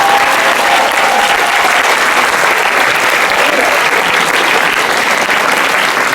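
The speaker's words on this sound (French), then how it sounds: "j'aimerais que l'on applaudisse très fort la Prestime" Loud, sustained applause from a large audience at a model UN closing ceremony, a thick and unbroken roar of clapping that holds steady from start to finish.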